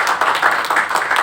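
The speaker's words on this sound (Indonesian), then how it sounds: "Tepuk tangan buat Tuhan." Congregation clapping hands together during a church worship service, a steady rhythmic clap of many hands close and loud, filling the room without pause.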